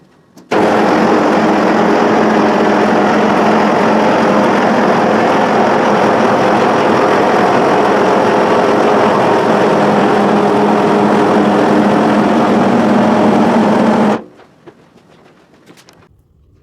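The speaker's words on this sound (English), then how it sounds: "now I'm going to bring the vehicle down" Car lift lowering a Ferrari 360 Spider 3.5L in a workshop, a loud steady motor hum with a constant whine that runs for about fourteen seconds and then cuts off abruptly, leaving quiet room tone.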